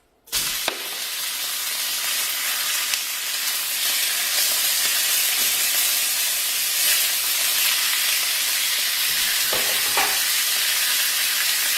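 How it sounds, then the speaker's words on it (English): Beef and spices frying in olive oil in a pan, a loud steady sizzle and hiss that starts abruptly and runs throughout, with occasional stirring scrapes and no talk. "Throw your little olive oil in there. Throw your meat in there and your spices."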